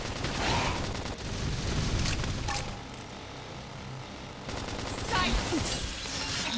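Rapid bursts of gunfire crackle through a Xenoblade Chronicles X battle, with dense volleys in two stretches around a quieter middle, mixed with combat effects and in-game voice shouts.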